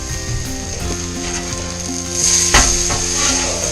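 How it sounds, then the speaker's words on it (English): A blackened tuna steak sizzling in a pan just after flipping: a steady close frying hiss with ticking, clicking crackles that swell briefly midway, and no talk. "I'm going to flip this steak and get about 3 minutes on the other side."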